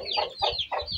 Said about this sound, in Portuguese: E aqui tem a outra galinha, ó, que já nasceu os pintinhos